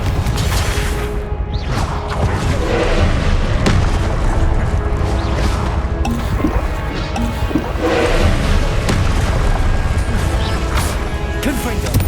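Confringo fire spells explode again and again in Hogwarts Legacy, booming and crashing loudly in rapid succession under a voice calling out.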